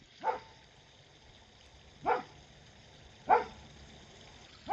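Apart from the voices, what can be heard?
dog barking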